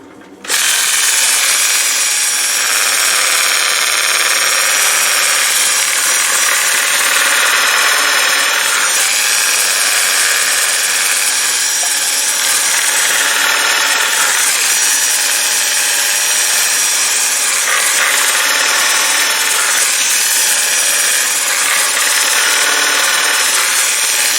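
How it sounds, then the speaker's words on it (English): Sandpaper on a drill scuffs against a spinning wooden bowl on a lathe, a loud, steady, gritty whir with slow swells in intensity and no talking. "the bowl spinning this way, and I've got the paper on my drill going the other way"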